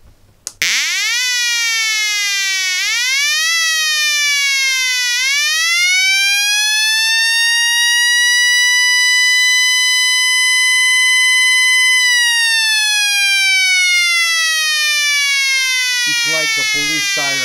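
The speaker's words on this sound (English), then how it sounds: "Like a police siren." A loud electronic siren tone from a simple transistor circuit with a BC337 NPN transistor sweeps upward in steps, holds a long steady wail, then slides down before a brief burst of buzzy noise at the end.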